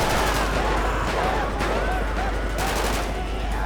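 Rapid gunfire from a small mini tank in GTA V, dense crackling bursts that run continuously with a voice talking over them.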